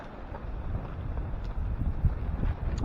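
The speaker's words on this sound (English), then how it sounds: "Say there was going to be some wind." Wind gusts across a rainy late-October campsite, a steady close rushing roar buffeting the microphone, rising and swelling slightly with no talk over it.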